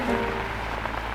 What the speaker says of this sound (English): I stood in the rain,